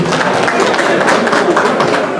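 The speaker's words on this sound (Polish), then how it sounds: "Proszę o brawa dla" An audience at a racing pigeon exhibition award ceremony in the Biała Podlaska district applauds, producing a steady, loud, dense wash of clapping throughout.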